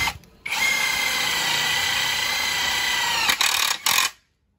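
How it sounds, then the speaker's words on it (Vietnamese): A Hukan X1 Pro cordless impact driver runs steadily for about three seconds, driving screws into steel purlin and wood. The loud, continuous whir cuts off briefly, then gives two short final bursts before stopping. "Bắn vít bắn tôn với con Hukan X1 Pro trên u sắt và trên gỗ nhá."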